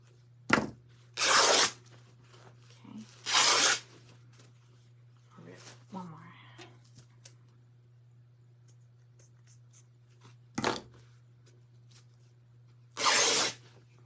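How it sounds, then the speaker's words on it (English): Turquoise fabric is ripped by hand in several short, loud tearing bursts spaced a few seconds apart, with a steady low hum underneath and faint handling noise between the rips. "This is the only fabric I could find that had it. So I'm gonna rip a few pieces of this."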